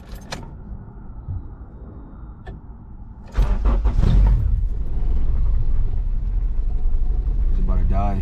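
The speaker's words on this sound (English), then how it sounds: "Let me start up the car" A car with a B20 VTEC engine, just back from a TPS sensor recalibration, cranks briefly and then catches into a loud, steady, rough idle that carries on close by.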